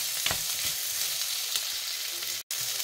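Pancit bihon and canton noodles with broccoli being stir-fried in a pan, a continuous close sizzle broken by soft scraping stir strokes and one sudden short gap, with no speech.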